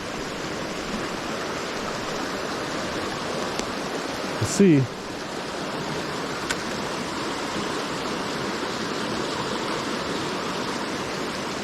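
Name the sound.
waterfall and stream flowing in Upper Michigan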